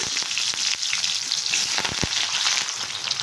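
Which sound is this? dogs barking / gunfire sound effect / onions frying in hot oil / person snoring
onions frying in hot oil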